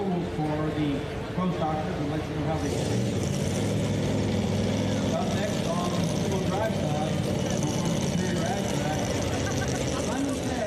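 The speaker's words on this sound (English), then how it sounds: "That'll be our super modified tractors." Super modified pulling tractor engine roaring at a county fair pull, a loud, sustained, constant drone with crowd and announcer voices mixed in throughout.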